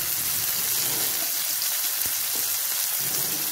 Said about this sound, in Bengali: আর ওই তেলের মধ্যে আমি উচ্ছেটা দিয়ে নুন হলুদ দিয়ে ভেজে নেব